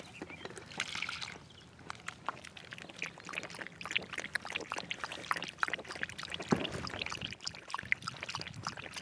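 Water is poured for a dog to drink outdoors near a boat, a faint trickling splash with scattered soft knocks and rustles at low level.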